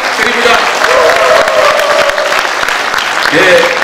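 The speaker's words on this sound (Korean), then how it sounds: "우리 정동영 대표님께 다시 한번 큰 박수 부탁드립니다" Applause from a hall audience for party leader Chung Dong-young at a rally of provincial councillors pressing for decentralisation, loud and sustained through the clip while an announcer's voice carries over the clapping.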